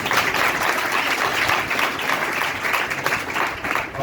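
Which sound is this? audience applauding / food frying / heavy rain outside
audience applauding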